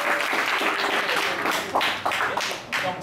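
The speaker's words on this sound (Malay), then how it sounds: "Okey, beri tepukan." Classroom applause from students during a lesson on Bernoulli's principle: a steady, dense patter of many hands clapping at close range, lasting the whole moment with slight surges.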